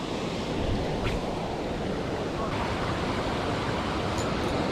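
Water rushing loudly over the Lake Nimrod spillway during rain, a dense, unbroken roar of fast-moving water heard close up and without any talking.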